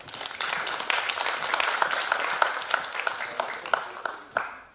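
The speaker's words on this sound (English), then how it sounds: "please give a big round of applause." An audience at the Brahmaputra Literary Festival breaks into a burst of applause, many hands clapping together at once, then the clapping thins out and fades near the end.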